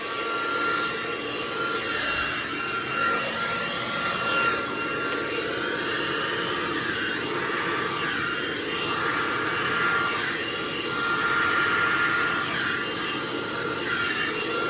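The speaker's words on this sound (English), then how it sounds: "So much for my hair blow dryer." A hair dryer blows with a continuous whirring hiss and steady motor hum, loud and close, running without pause and no talking.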